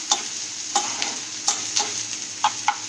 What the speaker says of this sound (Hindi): तो हम लोग अभी इसे थोड़ा सा फ्राई कर लेंगे